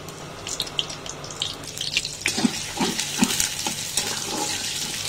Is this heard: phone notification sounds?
no